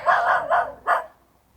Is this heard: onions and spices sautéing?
no